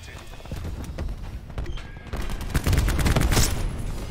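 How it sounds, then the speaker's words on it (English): Dense gunfire in a Call of Duty Black Ops 4 Safeguard match, rapid overlapping shots that grow louder and busier toward the end, with no talk over them. "People are shooting at Peter and hurting me."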